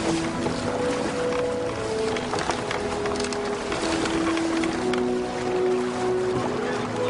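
Small open boat, the Caird, crossing rough sea, with steady wind and waves washing continuously around the hull; a sustained roar of water and gusting air with low tonal whine, no clear speech.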